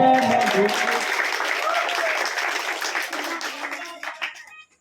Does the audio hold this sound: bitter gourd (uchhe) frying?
no